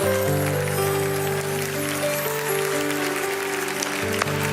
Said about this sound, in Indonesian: Berikan tepuk tangan, jangan berhenti dulu